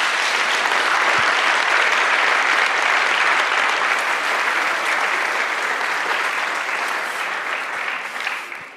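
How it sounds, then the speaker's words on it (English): An audience gives sustained, dense applause after a game programming lab's final presentation, a loud, even wash of clapping lasting several seconds and tapering slightly at the end. "a big round of applause for the House of Stardew"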